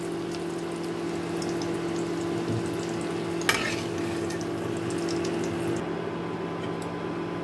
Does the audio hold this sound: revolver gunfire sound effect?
no